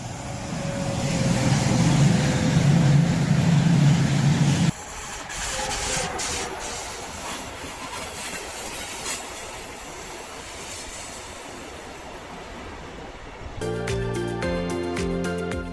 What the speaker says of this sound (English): Trucks and trailers are on rail journey.